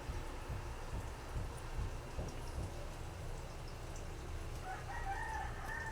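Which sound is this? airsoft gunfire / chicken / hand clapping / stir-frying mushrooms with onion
chicken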